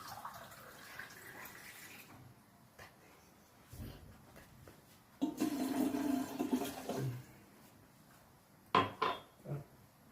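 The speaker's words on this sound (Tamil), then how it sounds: "கொஞ்சம் தண்ணி ஊற்றிடணும் முதல்ல." Water is poured into a steamer pot to prepare ragi puttu at a traditional food festival. It comes as a short splashing rush in the middle, amid scattered clinks of pots and quiet handling noises.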